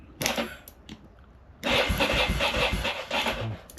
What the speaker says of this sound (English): Okay, right, it turns over.